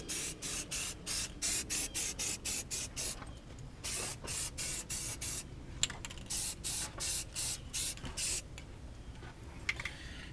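Repeated short bursts of aerosol spray hissing in quick succession, close by, with brief pauses between each burst and a longer stretch of spraying later.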